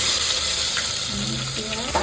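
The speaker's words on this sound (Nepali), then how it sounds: "यसमा जिरा थोड़ा सा अनि यसमा राखिन्छ लसुन" Cumin and garlic fry in a hot pan with a continuous bright sizzle, and there are a few short scraping stirs near the end.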